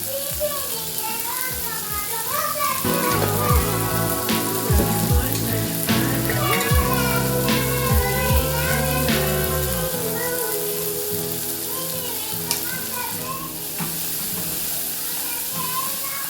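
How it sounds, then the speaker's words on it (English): Spring onion frying in a pan sizzles steadily at close range while stirring clinks now and then, with a voice and tonal background sounds running over it for much of the time. "Because our green onion, guys, cooks very fast, you have to be careful not to burn it."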